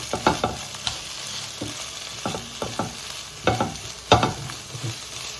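Egg stirred together with masala in a frying pan, a low sizzle under a handful of scraping, clattering spatula strokes that come in short irregular bursts, close and fairly loud.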